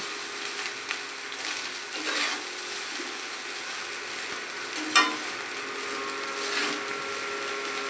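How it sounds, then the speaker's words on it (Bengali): Vegetable rice with salt and sugar being stirred and fried in a pan, giving a steady close sizzle with intermittent scraping strokes of the spatula. "দিয়ে একটু নেড়ে চেড়ে নেব, মানে একটু ভাজা ভাজা করে নেব"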